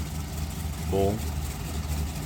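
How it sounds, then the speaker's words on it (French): A 1930s Bellanca Aircruiser aircraft engine idles with a steady, low, rumbling drone throughout, and a voice speaks briefly over it near the middle. "rien que le bruit du moteur, moi je lui trouve un certain charme quand même"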